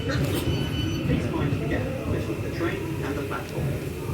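A train passing through a railway station, a continuous heavy rumble with faint metallic squeals, while a voice talks over it.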